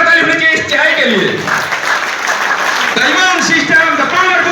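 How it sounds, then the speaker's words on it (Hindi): Audience clapping applauds a herbal tea at a DXN product presentation, a steady dense wash of hands lasting throughout, with voices and cheering mixed in. "एक बार जोरदार ताली होनी चाहिए इस चाय के लिए।"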